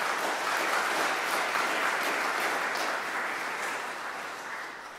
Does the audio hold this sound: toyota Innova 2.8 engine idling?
no